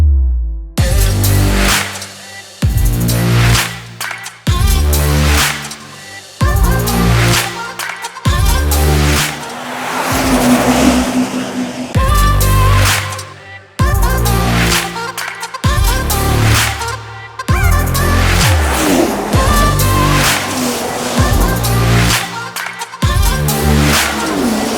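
A 2024 Porsche Cayenne hybrid SUV drives along, heard as a steady engine and road rumble with repeated rises and shifts in tone, loud and close throughout with no talking.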